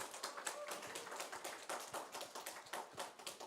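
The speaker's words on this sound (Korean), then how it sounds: "박수 주세요" A church congregation at a Sunday service claps together, a dense, even stretch of many hands applauding throughout, fairly faint and heard alone without voices.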